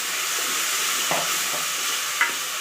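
Chicken curry with ground paste sizzles steadily in a pan while being stir-fried, a continuous close frying hiss broken by a few soft scraping stirs, with no talking.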